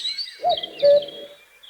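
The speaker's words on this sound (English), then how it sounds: "as the birds started their dawn chorus" A short bird call, a few clear chirping, whistled notes close by and alone, in the manner of a dawn chorus.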